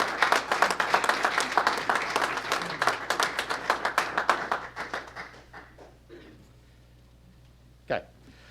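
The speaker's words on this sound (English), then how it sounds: "I don't know if we can give these guys a round of applause or congratulations." Applause for athletes at a school board meeting: a small group claps in distinct, fairly close strokes that soon thin out and stop, leaving near silence and one brief sound.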